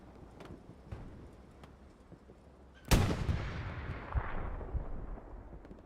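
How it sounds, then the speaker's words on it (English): Artillery strike in the game Hell Let Loose: a sudden loud heavy boom lands midway, then a long rumbling decay with scattered distant gunfire crackling over a low battlefield bed. "Artillery strike being used."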